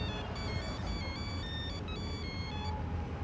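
A mobile phone ringtone plays a repeating electronic melody, fairly faint over a steady low background hum with no talking.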